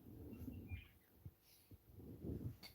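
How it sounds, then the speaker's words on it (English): An eastern rosella parrot calls around an outdoor homestead in a few short, thin whistled notes, faint and somewhat distant, over low rustling and handling noise. "That's one of the parrots. That is an eastern rosella,"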